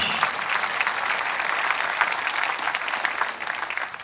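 Church congregation applauding together during a French-language sermon, a dense, steady wash of clapping that holds at the same level for about four seconds with no speech over it.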